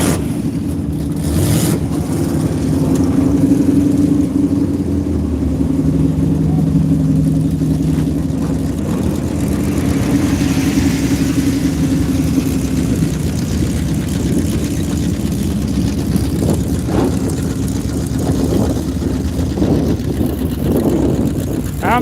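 Stock car engines idle and rumble at Vado Speedway as the cars line up, a steady low droning mass of motors with occasional revving.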